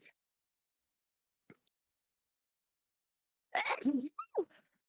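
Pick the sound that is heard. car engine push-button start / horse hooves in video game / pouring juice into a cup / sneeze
sneeze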